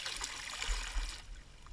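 Water poured from a bucket during a basic swim lesson, a continuous splashing, trickling rush that stays fairly steady, close and moderately loud, then eases slightly toward the end with no talk over it.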